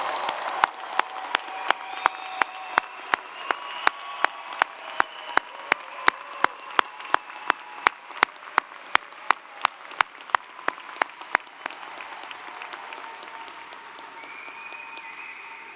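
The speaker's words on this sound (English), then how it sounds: "How about a loud round of applause for our newest doctoral degree recipients?" A loud round of applause for new doctoral degree recipients at a university commencement ceremony, dense crowd clapping with a series of sharp regular claps standing out up close, then thinning into softer clapping near the end.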